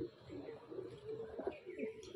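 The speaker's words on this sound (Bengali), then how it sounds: "খুব ছোট্ট ছোট্ট সাইজের পায়রা" Very small pigeons coo in soft, low, rolling phrases at close range, faint and quiet, with no talk over them.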